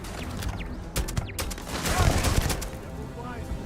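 A grenade blast and surrounding combat in the video game Starfield, with sharp cracks and shots followed by a louder, rumbling burst of explosive noise, all close and chaotic.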